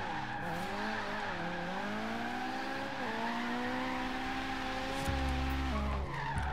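A 400-horsepower Mazda MX-5 Miata drifting in Forza Horizon 3, with a steady, loud engine drone whose pitch swings up and down under sustained tire squeal, close and continuous with no talk.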